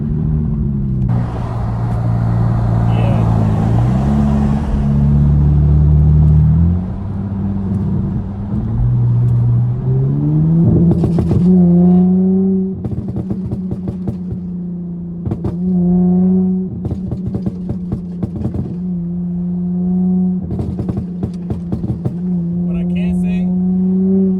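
A tuned Dodge Charger SXT drives along a back road. Its exhaust drones steadily, and the pitch rises and falls as it accelerates and eases off. Crackling burbles pop irregularly in the second half.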